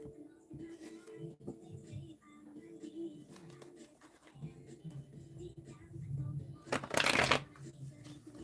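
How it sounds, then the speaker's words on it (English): Tarot cards are shuffled by hand in soft, uneven riffles and slides, with a louder, crisp burst of shuffling near the end and a low voice murmuring now and then. "I feel like shuffling this up."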